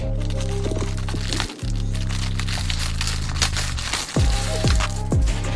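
Plastic packaging around a bundle of 54-inch Just Braid color 1 braiding hair crinkles and crackles as it is cut open, with sharp snips near the end over a steady low background hum.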